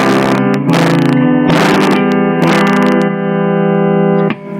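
Distorted electric guitar playing the short intro of a song, open strings ringing under a power chord, loud sustained chords in a few separate strikes with brief gaps and a final cutoff.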